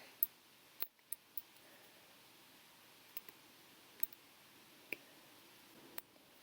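Scissors trim the edges off a homemade star-shaped window cling, giving several faint, sharp snips and clicks spread out over a quiet background.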